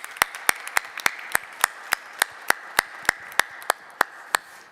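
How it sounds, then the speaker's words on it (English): Sharp, evenly spaced claps in a steady rhythm, close and distinct, at a conference panel event, with no voices over them. "a big round of applause for Serhij."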